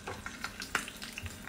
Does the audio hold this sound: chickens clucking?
no